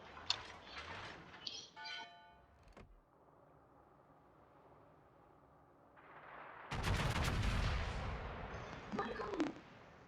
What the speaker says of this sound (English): A broadside shot on Alaska.